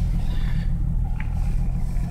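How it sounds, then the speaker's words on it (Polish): A Ford Mustang with a 4.0-litre V6 idles steadily just after starting, a low continuous rumble close by with no other sounds over it. "Zapaliłem samochód, no jak widać, zaczyna chodzić,"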